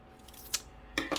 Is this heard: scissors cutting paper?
yes